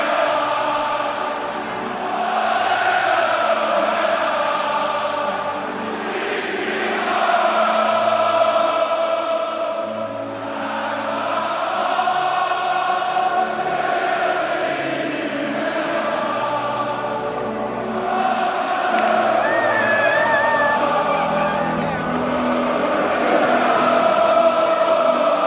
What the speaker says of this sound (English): this is the crowd at Emirates. As Arsenal's players surge towards a joyous clock end